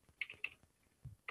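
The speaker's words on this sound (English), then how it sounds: "So I'm typing in a very generic username and an email." Keys clack on a computer keyboard in a few quick, light bursts with short pauses between them, close and fairly quiet, as a username and email are typed during a Django installation setup.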